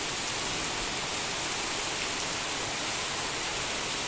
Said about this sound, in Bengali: অনেক বৃষ্টি, বৃষ্টির জন্য কিচ্ছু দেখা যাচ্ছে না।